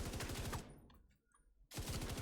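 An LMG firing in the Rainbow Six Siege video game, two rapid automatic bursts, loud and close, split by a short near-silent pause.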